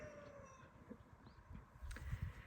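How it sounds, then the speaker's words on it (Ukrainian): Roosters crow in the distance in a Ukrainian village at 9 a.m. over a busy outdoor background, their calls faint and partly masked by rustling and low rumbling noise. "Півні тут сходять з розуму, прям розпівались на всю."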